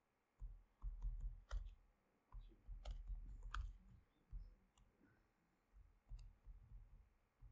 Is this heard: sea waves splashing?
no